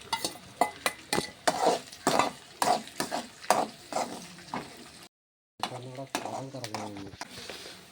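Garlic and chopped green chillies fry in oil for a tuna pickle, a sizzle under rhythmic scraping strokes of a spoon against the pan, then a brief pause before a faint voice-like sound over continued frying.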